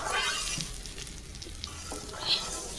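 Rice fries in ghee for khichuri, a faint, steady sizzle with soft stirring scrapes and an occasional small pop, heard at low level throughout.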